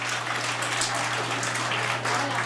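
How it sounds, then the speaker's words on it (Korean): Wedding guests clap together in steady, dense applause at a wedding ceremony, a continuous crackle of many hands over a low constant hum. "자, 각각 여러분께는 모두 박수를 쳐주시기 바랍니다."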